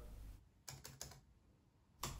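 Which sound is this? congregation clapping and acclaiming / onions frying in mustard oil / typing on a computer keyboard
typing on a computer keyboard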